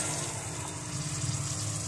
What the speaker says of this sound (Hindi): अब इसके अंदर हम थोड़ा सा पानी डालेंगे